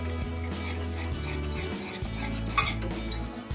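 A spoon stirring cornflour into a creamy chicken sauce in a metal pot, with repeated scraping and clinking against the sides in an uneven rhythm and a sharper knock near the end, close and moderately loud with no talking.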